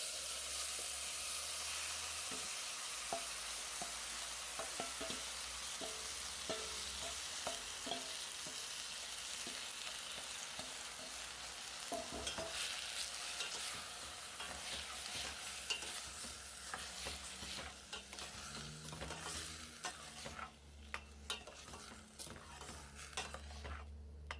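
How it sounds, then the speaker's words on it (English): Seasoned soya bits being stirred in hot oil for a vegetarian stew with corn and carrots, giving a steady close sizzle broken by frequent scraping clicks of a spoon against the pot. "When the oil is hot, add in the seasoned ingredients and stir."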